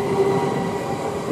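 A London Overground train at Imperial Wharf station gives a short, close, loud rumble with a faint squealing tone over it.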